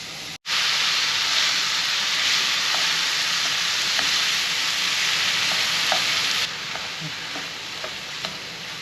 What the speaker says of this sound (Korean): 그래가지고 살짝 간한 다음에 올리브오일 넣고 볶아주겠습니다